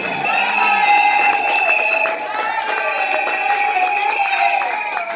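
Wedding congregation in a church cheering and whooping for a newlywed couple, a dense, loud crowd roar that holds steady throughout, with shouts and some clapping mixed in.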